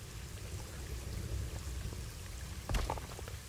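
Steady rain pours down across a wildlife park in the zoo-building game Planet Zoo, a continuous dense hiss with a brief louder splash of drops near the end.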